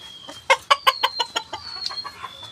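A laying hen clucks in a backyard coop, a quick close series of about eight sharp, rhythmic clucks that gradually soften, with a thin steady high whine running underneath.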